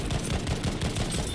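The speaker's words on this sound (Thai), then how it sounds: "จะเป็นเสียงปืน" Rapid bursts of gunfire from Battlefield V, crackling shots fired in quick succession with no pause across the whole moment.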